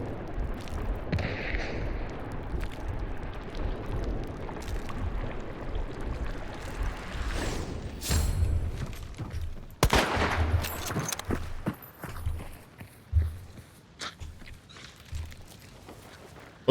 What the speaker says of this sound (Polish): On już do ciebie tu strzela.